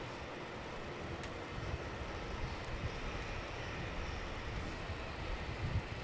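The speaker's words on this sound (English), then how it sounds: "That Jetstar just landed on 27." A Jetstar jet airliner lands on runway 27 at night, heard as a faint, distant, steady roar of engine and rushing air with no talk over it.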